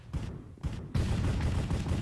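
Rapid bursts of automatic gunfire in a Minecraft Cops and Crimes match, loud overlapping volleys with brief gaps early, then continuous heavy firing.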